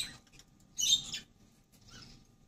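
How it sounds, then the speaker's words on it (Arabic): A small rosy-faced lovebird chick gives two short, high chirps separated by a pause, fairly close, over quiet background shuffling. "ده فرخ روز، نوع من انواع العصافير الروز"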